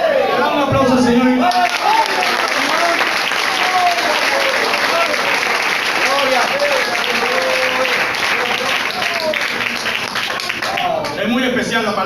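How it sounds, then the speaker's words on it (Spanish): A church congregation in Caracas claps for the Lord during a service, a sustained, dense round of applause lasting several seconds. A voice speaks over the start of the clapping and again near the end. "Le damos un aplauso al Señor."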